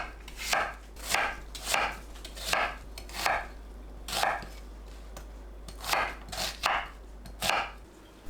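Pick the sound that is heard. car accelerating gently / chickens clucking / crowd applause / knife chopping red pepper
knife chopping red pepper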